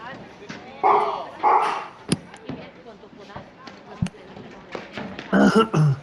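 Dogs bark in bursts during a women's squash quarter-final at the Boston Open, with court taps and ball hits throughout and commentators talking over the top.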